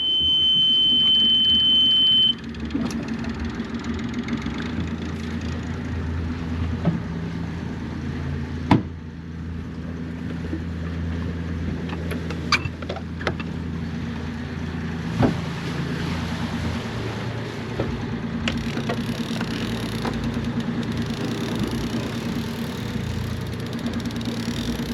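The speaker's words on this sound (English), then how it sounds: "Almost at the entrance, so let's start engine" A sailboat's auxiliary engine starts and settles into a steady low rumble at sea near a reef entrance, with a few sharp clicks and knocks and some wind noise over the continuous drone.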